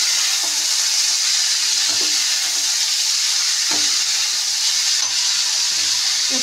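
Shredded cabbage frying in a pan, a loud steady sizzle and hiss with occasional soft clinks of stirring, close up and without talk.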